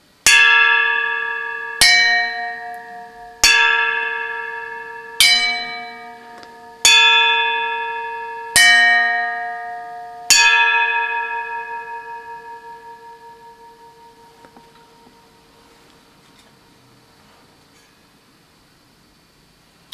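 A metal colander struck with a stick rings out like a bell: seven clear metallic strikes at a steady pace, each with a long shimmering decay, the last left to fade slowly into near silence.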